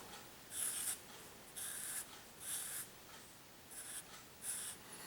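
Marker or chalk strokes on a board during a math lesson on multiplying algebraic expressions, five short scratchy squeaks in an uneven rhythm, faint and close, with no talking.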